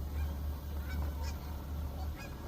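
Geese honk several times at moderate distance over a steady low outdoor rumble, with no voices.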